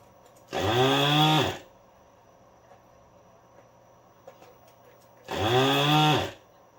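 A Goot desoldering gun's vacuum pump whirs on twice in short, buzzy bursts of about one second each, separated by quiet, recorded close up.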